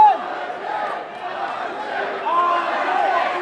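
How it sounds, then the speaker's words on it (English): A crowd chanting for fighter RJ Goodridge at the War Memorial Auditorium during a combat sports event, a steady rhythmic roar of voices filling the arena and swelling slightly toward the end. "An RJ chant starting here at the War Memorial Auditorium"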